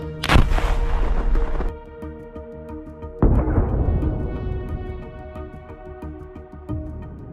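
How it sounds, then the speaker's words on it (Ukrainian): A loud, close gunshot during combat in Ukraine with a long rumbling echo, then a second powerful shot that rings out and decays slowly. "постріл."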